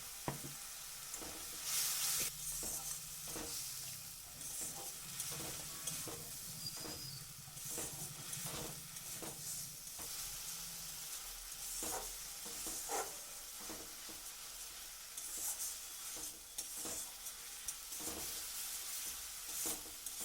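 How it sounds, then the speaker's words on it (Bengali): Spice paste, loosened with a splash of water, fries in a pan while being stirred continuously, a low steady sizzle and hiss with regular soft scraping strokes of a spatula. "আমি সমানে নাড়াচাড়া করতে করতে মশলাটাকে অনেকটা কষিয়ে নিয়েছি"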